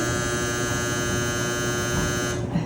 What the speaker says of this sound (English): That is my dryer.